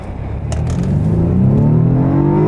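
A 2014 BMW 428i xDrive coupe in sport mode accelerates hard, its engine note climbing steadily in pitch as it revs up loud and close, heard alone without talk.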